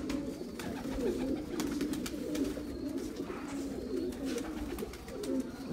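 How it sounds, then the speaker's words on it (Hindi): Kamgar pigeons on a rooftop loft cooing nearby, a continuous layered murmur of soft, repeated coos from several birds at a steady level. "प्योर कमगर कबूतर जी देखो तुहानूं दिखा रहे हैं असीं।"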